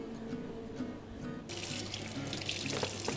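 A kitchen tap suddenly opens and runs for hand washing, a bright rushing stream of water that starts partway through and continues steadily, close by and fairly loud.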